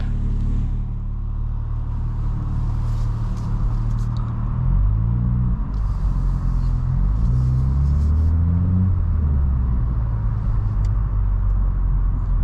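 A BMW M3 fitted with an IRL midpipe and AA downpipes drives along, its exhaust a deep, steady droning rumble from inside the cabin, rising and falling in pitch through gear changes midway, with no talking.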